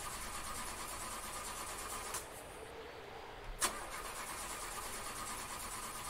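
A car engine in a low-poly horror game cranks and catches over a steady idling drone, one short starter burst followed by a sharp click, with no talking.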